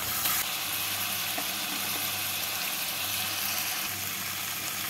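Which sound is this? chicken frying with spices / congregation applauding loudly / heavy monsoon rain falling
chicken frying with spices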